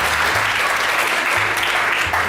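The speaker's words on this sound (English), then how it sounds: "you could hear the claps are genuine" Genuine audience applause at an event with Prince Harry, dense, loud and continuous clapping from a large crowd filling the whole stretch.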